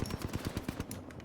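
Rapid automatic gunfire in the video game Apex Legends, a close burst of repeated sharp shots in quick rhythm for over a second, loud and steady with no talking over it.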